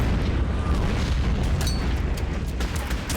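Artillery shells pound German infantry in the wartime strategy game Order of Battle, a dense continuous rumble of booms and bursts rolling together without a break, loud and heavy in the low end.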